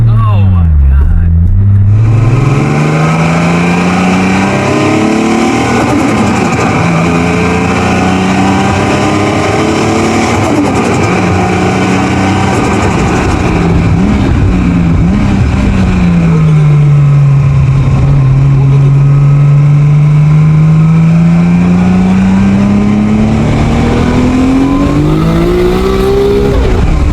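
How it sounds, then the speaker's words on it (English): A race engine in Smokey Nagata's TopSecret Toyota Supra revs loud and close, its pitch sweeping up and down through long sustained pulls with a high-strung wail. "That's a motherfucking race motor right there."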